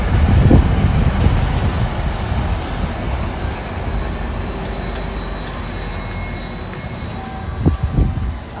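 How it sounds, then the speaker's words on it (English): A tram rolls past at Amsterdam Central Station on a Sunday morning, a low rumbling hum with occasional clanks under steady city background noise. "Oh, that's a tram."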